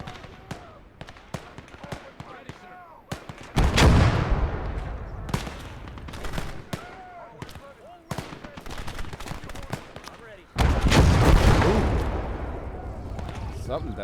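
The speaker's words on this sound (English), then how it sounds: "Something detonated there." In the World War II video game Gates of Hell, in a Battle of the Bulge scenario, two heavy explosions boom with lingering rumbles amid scattered sharp gunfire cracks, while a person talks over the action.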